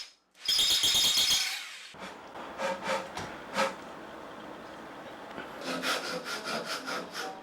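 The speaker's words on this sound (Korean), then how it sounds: "이제 단소의 내경을 뚫는 과정입니다." Bamboo tube being bored out to a roughly 12 mm inner diameter, with the node membranes removed, to make a Korean danso flute: loud, harsh grinding and rasping of wood in uneven bursts and strokes, close up, with no talking.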